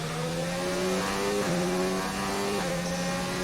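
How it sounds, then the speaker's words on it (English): Racing car engine heard steadily in the background of an online racing game, a droning tone that shifts pitch up and down with gear changes, moderately loud and continuous, with no talk over it. "I can hear an engine sound in the background"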